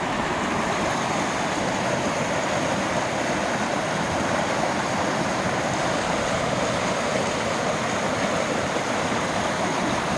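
A swollen river in flood near Monjas, Jalapa, Guatemala, rushes with a loud, steady, unbroken roar of churning water that stays constant throughout, with no voices.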